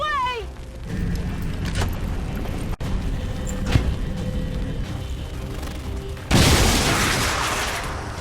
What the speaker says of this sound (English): Appreciating the idea, Flores joins him in some high-angle bombardment.